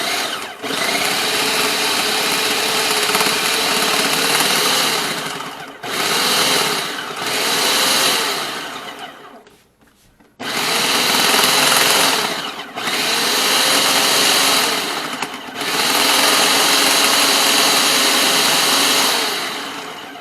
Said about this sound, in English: I'm going to go back to my pulse